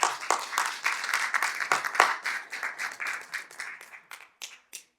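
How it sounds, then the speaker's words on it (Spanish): A church congregation applauds during a Spanish-language sermon, a round of clapping with some sharp individual claps that thins out into a few scattered claps near the end. "Démosle un aplauso a nuestro Dios."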